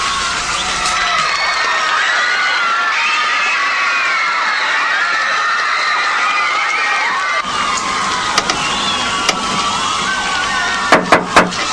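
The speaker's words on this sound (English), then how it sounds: "Did you hear that crowd?" A large crowd cheers and shouts at a concert, a loud and sustained roar of voices with whoops rising over it, followed by a few sharp bangs near the end.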